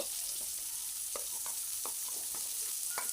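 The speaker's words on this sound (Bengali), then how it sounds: "কালো জিরে দিয়ে একটু নেড়ে ছেড়ে নিয়ে পেঁয়াজ কুচি দিয়ে দিচ্ছি" Chopped onion hitting hot oil with black cumin, frying for a river crab curry: a steady, close sizzling hiss broken by a handful of light spoon clicks and scrapes against the pan.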